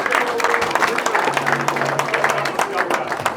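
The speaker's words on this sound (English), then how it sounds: "To give them a round of applause" An audience at an evening talk gives a dense, steady round of applause that stays loud across the whole stretch, with a voice partly audible over the clapping.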